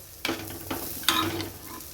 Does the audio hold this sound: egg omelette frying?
yes